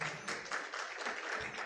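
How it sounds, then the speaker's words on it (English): Brief applause from a conference audience at a fintech event, a steady patter of clapping with a few louder taps. "let's give them a big clap in absentia"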